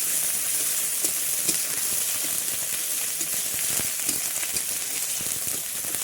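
Ginger sizzles quietly in oil with turmeric, a soft continuous hiss with scattered faint crackles, fairly low in level and with no talking.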